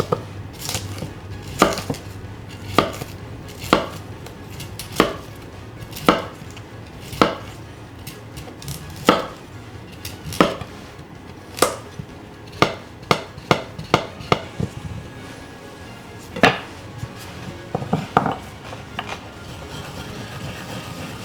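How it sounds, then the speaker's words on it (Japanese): A knife chopping fresh wasabi root from the stem end on a cutting board in a sushi kitchen: slow, steady, crisp knocks repeating one after another, close and clear, speeding into quicker bursts later. "わさびは茎の方から切れ目を入れて切っていきます。"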